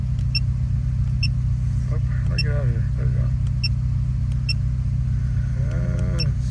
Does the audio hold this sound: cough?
no